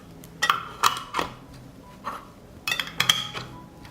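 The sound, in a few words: closing glass jars of peaches with lids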